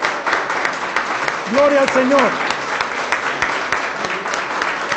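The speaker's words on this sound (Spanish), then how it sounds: "hermanos, demos un aplauso al Señor" A church congregation applauds steadily and loudly throughout, a dense wash of clapping with a voice briefly calling out over it.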